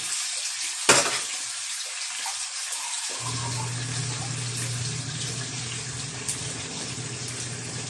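River water gurgles and splashes into a cooking pan, a steady pouring sound with a soft low hum emerging underneath partway through.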